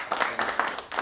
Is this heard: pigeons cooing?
no